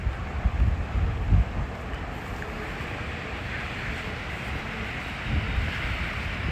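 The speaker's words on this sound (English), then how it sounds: "Nice sand, waves out today." Surf washes onto a Jamaican beach in a steady low roar with gusts of wind buffeting the microphone; a couple of swells rise and fall, and no one speaks.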